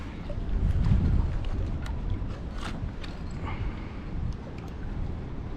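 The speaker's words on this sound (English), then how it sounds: "it is a nightmare fighting the wind and trying to fish" Wind gusts buffet a kayak out on Lake Erie, a steady rushing, rumbling microphone noise that swells early and then settles into a constant low roar, with faint light knocks and water sounds over it.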